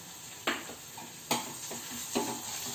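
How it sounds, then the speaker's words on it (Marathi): Ginger garlic paste fries with onions in a pan, a soft steady sizzle marked by three distinct scraping stir strokes spaced about a second apart, with no talking. "आता आलं लसणाची पेस्ट टाकायची"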